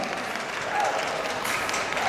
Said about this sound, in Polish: Wielkie brawa, słuchajcie,